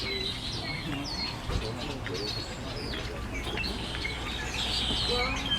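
Red-winged blackbirds call from an arbutus tree on a warm day, sharp chirps and trills scattered throughout at moderate distance over a steady low rumble of background noise.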